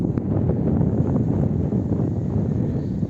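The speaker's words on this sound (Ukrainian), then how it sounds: "Вітер віє, дівчата, так прохолодно." Cold wind rushes and buffets across the microphone in a continuous low roar over a farm field, with no voices.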